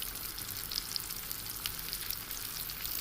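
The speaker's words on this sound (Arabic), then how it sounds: "نحطه بقى في الزيت، نحط بالراحه كده" Tilapia fillets fry in hot oil with a dense, continuous close sizzle and scattered crackling pops, with no voices over it.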